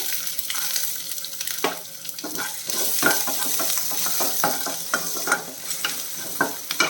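Garlic cloves and half an inch of ginger hit hot oil where mustard seeds have popped, giving a steady close sizzle with repeated sharp crackles and spatters throughout, no voices.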